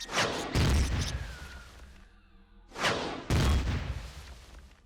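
Weapon shots in the space survival game Empyrion Galactic Survival: two loud, dense bursts of gunfire, each lasting about a second and a half, separated by a quieter gap with a faint low hum.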